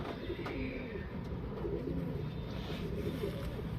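A male tumbler pigeon coos in soft, repeated low murmurs, close by and steady, with faint rustling around it and no talking.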